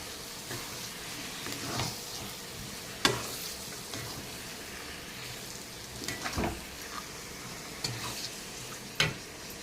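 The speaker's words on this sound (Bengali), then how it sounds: "এখন আমার এই মশলাটা ভাজা হয়ে গেছে। আমি এখন দিয়ে দেবো মটনগুলো" Marinated mutton pieces frying in spiced oil in a pan over a low flame: a steady, soft sizzle broken by intermittent scraping and knocking as the meat is stirred, with no voices.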